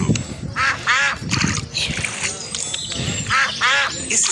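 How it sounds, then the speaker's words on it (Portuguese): Ducks quacking at a lake in a children's game, several bursts of nasal quacks in quick clusters over busy background game sounds and music. "Estamos do lago e lá vem os patos."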